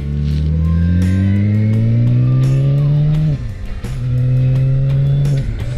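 A motorcycle engine with an unusual whiny, vacuum-cleaner-like tone revs loudly and close up, pitch climbing steadily for several seconds, dropping sharply, then holding a high rev again.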